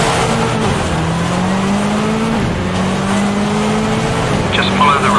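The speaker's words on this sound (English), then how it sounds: "Start the car. Throttle carefully up to 50." A rally car engine drones loudly in Richard Burns Rally, holding a steady rising pitch that dips briefly at shifts, with some tire noise and a voice faintly in the background.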